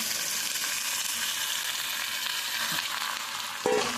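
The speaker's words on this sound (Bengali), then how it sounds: "এবার সোয়াবিনটা দিয়ে মশলার সাথে আলুর সাথে ভালো করে কষিয়ে নেব।" Soybean chunks fry with spiced potatoes in a pan, giving a steady close sizzle and crackle with a brief scrape of stirring near the end.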